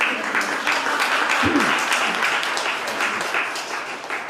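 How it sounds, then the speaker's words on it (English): An audience at a live storytelling event breaks into sustained applause, a full, even roar of clapping with a few sharper individual claps and faint vocal sounds beneath. "Come on, clap it up"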